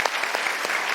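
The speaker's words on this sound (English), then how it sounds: "So I want to give you a round of applause on that." Audience applause at a televised talk show, dense and steady clapping throughout a short burst, loud and close, with a faint voice underneath.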